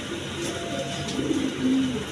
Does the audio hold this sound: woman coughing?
no